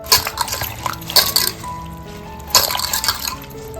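Leaves being washed in a basin of water, with bursts of splashing and dripping, light clinks of a pot or utensils, and quieter pauses between the bursts.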